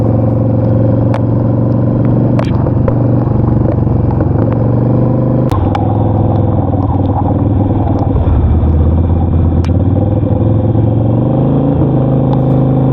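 A Harley-Davidson Sportster Nightster rides through heavy rain on a mountain road, a steady low engine drone with wind and rain noise and occasional sharp clatters, continuous and close throughout.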